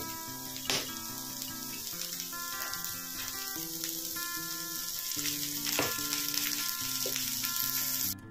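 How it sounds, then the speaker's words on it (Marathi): Onions fry in oil toward golden brown for a spicy Marathi chicken rassa, a soft steady sizzle under a faint background tone, with a couple of brief clinks of stirring. "अगदी गोल्डन कलर येईपर्यंत आपल्याला कांदे छान व्यवस्थित भाजून घ्यायचे आहेत"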